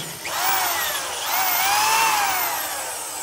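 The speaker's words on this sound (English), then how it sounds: "I'm gonna drill some holes and spot weld" A power drill whirs loudly and steadily, its pitch rising and dipping as it bites through car cab corner sheet metal, with no talking.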